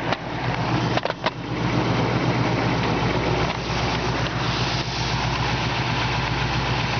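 A 351 Windsor V8 in a 1965 Ford Mustang fastback idles steadily and close by under an open hood, with a low, even rumble that carries on alone throughout.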